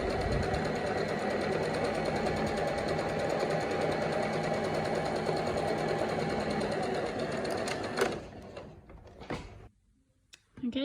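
A sewing machine stitches French seams on a fabric produce bag, whirring rapidly and steadily up close, then stops and gives way to a few soft handling clicks and rustles.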